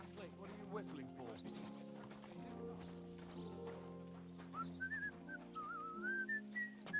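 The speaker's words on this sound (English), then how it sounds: "What are you whistling for?" A character in Kingdom Come: Deliverance II whistles a wavering tune in the second half, over a soft bed of game music and low background sounds, with horse hooves faintly audible.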